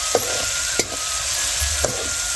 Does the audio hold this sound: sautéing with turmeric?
yes